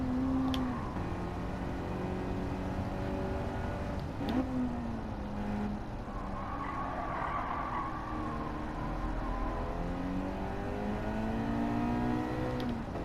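A car in Gran Turismo speeds up on a time trial track. The engine climbs through the gears in rising, sweeping tones, loud and steady, with short dips at each shift.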